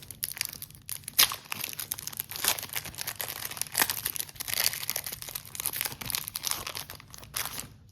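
Crinkling and tearing of a sealed plastic trading card pack wrapper, close up, in irregular bursts of rustling and ripping with no talk.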